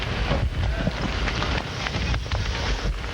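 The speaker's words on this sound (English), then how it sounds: "You can hear the flags flopping. It is very windy" Strong wind blasts across the microphone in a constant roar at a beach volleyball match, with faint fluttering bursts of flags whipping in the gusts.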